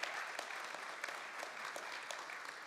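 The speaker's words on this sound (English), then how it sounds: "Please give them a very warm round of applause." Audience applause for a panel at a health conference session on eliminating TB among refugees: a steady, dense wash of clapping from a sizeable crowd, sustained evenly throughout with no talk.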